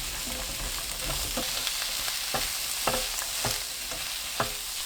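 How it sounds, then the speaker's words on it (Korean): Zucchini and onion stir-fry in a pan with perilla oil and garlic over medium heat. A steady hiss of sizzling runs throughout, punctuated by a few sharp knocks of a utensil stirring against the pan. "들기름 1큰술, 애호박, 양파 넣고 중불로 2분 볶아주세요."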